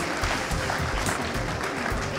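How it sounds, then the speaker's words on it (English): Steady, dense audience applause fills a hall at a world final chocolate travel cake competition, a continuous close patter of many clapping hands with no break. "A round of applause."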